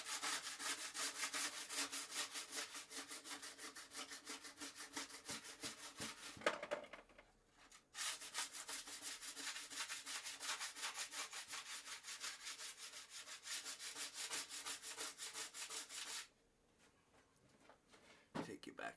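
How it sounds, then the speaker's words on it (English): A scraper drags excess wax off a GNU B Nice 148 snowboard from tip to tail, a loud, close, rhythmic rasping of rapid strokes in two long runs broken by brief pauses. "So now we're going to scrape all the excess from tip to tail."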